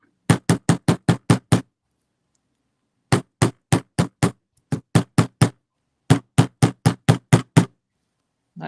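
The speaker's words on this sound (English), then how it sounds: "rubber hammer," A rubber hammer strikes a metal chain link repeatedly to shape it, sharp close knocks in three quick bursts of about six blows each, separated by short pauses, with no talking.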